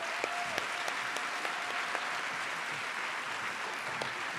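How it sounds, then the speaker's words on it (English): An audience at a nursing school pinning ceremony applauds steadily, a dense wash of clapping with a few sharper claps standing out near the front. "Please join me again in a sincere round of applause for their commitment to your learning and your well-being"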